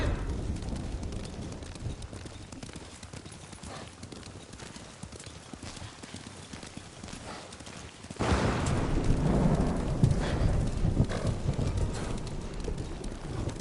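Horses' hooves clip-clop steadily in the Ghost of Tsushima video game, a continuous trotting rhythm that swells louder partway through with a rumbling, windy wash behind it.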